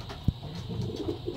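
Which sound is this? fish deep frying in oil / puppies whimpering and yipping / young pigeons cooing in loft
young pigeons cooing in loft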